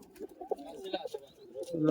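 Giribaz pigeons kept for sale in Murshidabad give short throaty coos and warbling calls at close range, bursts coming in uneven clusters, with a voice partly heard among them.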